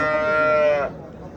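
A single long, loud cow moo rings out close by at a Yozyovon cattle market, holding steady before cutting off into a low murmur of crowd noise.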